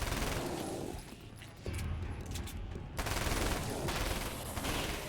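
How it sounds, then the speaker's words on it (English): Gunfire rings out in the video game Alan Wake's American Nightmare as dense, loud bursts of rapid shots. A short, quieter lull breaks the barrage before the shooting resumes. "Maybe I'll just shoot him with a gun."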